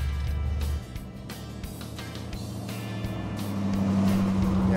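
A '49 GMC rod truck with a warmed-up LS1 V8 drives along, its engine a steady low rumble that dips briefly and then swells louder as it accelerates, heard from close by with no talking.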